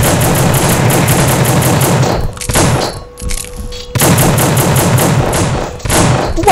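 Gunfire in the horror game The Suffering: loud, close bursts of rapid machine-gun fire, pausing briefly in the middle with a few scattered thuds before the heavy automatic fire resumes.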